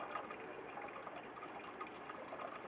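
Pale ale wort gushes and splashes steadily as it is strained and aerated during all-grain brewing, a continuous pouring rush of liquid heard close up with no talking.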